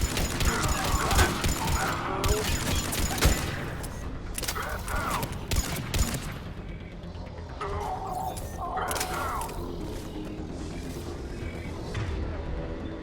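Rapid bursts of gunfire with incendiary ammo crackle in Mass Effect 3, loud clustered volleys with mechanical clatter, then a brief lull before more shots break out.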